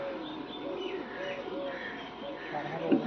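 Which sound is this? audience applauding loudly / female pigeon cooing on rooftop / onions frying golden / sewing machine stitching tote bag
female pigeon cooing on rooftop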